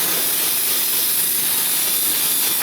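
Small drill spinning a carbide burr against a rusty rear wheel knuckle of a Jeep Compass or Patriot, a steady, loud, high grinding whir held for a few seconds without a break.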